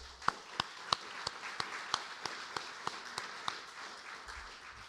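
An audience at a sold-out lecture event on the Greek debt crisis offers sparse, evenly spaced claps that ring out sharply and distinctly over a low room murmur.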